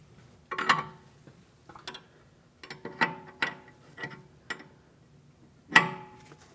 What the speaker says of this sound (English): When you tighten this, we're turning it counterclockwise towards the outer tie rod end.